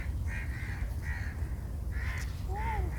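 Several crows caw from moderate distance outdoors on Al Marjan Island in Dammam, Saudi Arabia, in short harsh calls spaced across a few seconds over steady wind and background noise, with a faint voice at times.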